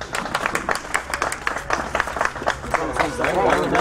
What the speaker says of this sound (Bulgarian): Аплодисменти за господин кмета.